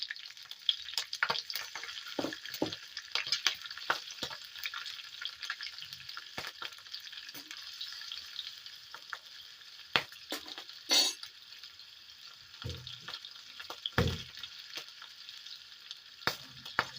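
Slit green chillies frying in hot oil in a pan for an anchovy curry, a continuous bright sizzle with scattered crackles, pops and occasional utensil clinks, no talking.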